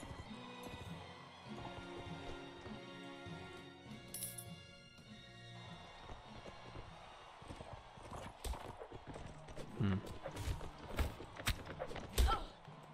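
Horses in the video game Mount and Blade Warband clip-clop with rhythmic hoofbeats, close and varying in pace, mixed with game music and scattered clashes and thumps toward the end.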